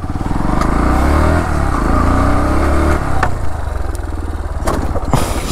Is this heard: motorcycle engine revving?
yes